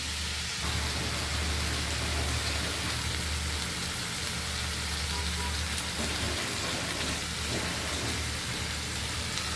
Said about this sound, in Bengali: এটা ভালোভাবে কষানো হোক